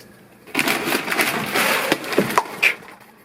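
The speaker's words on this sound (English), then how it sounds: "You dropped my cashew butter." A non-glass container of cashew butter falls in a kitchen pantry area, giving a close, rough clattering knock with scraping and a couple of sharp bumps as it settles, with no speech over it.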